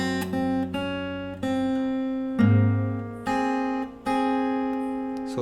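Fingerstyle acoustic guitar plays the melody over a plucked bass rhythm, a steady series of close, clear notes and chords, each ringing into the next.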